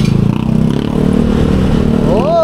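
A brand-new stock motorcycle engine runs steadily up close, a low continuous drone carrying on under speech, with a rising rev toward the end.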